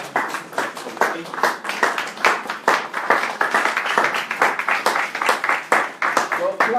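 Audience clapping in a hall at a live training event in Abuja, a dense run of hand claps filling the whole stretch at steady loudness, with voices mixed in underneath.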